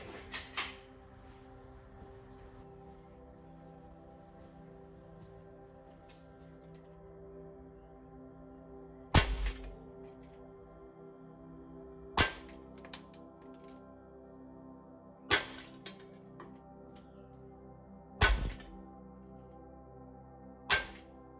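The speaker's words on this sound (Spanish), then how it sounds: "pues han sido esos 5 disparos" Five sharp cracks from a replica Smith & Wesson MP9 pistol ring out at roughly three-second intervals, loud and close, with quiet mechanical clicking and faint tapping between them.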